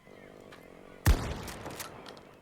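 A Remington 870 shotgun firing a slug round in Battlefield 2042: one sharp, loud, close blast that fades into a short echo after a quiet moment.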